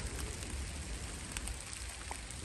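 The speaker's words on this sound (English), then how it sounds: "And it's raining." Steady rain falls on a cold, dark evening, a dense, even hiss that holds at the same level throughout with no pauses and no voices.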